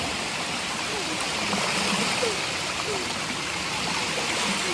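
A waterfall on Judd Trail rushes with a steady, broadband wash of falling water, close and continuous, with faint splashes and voices in the background.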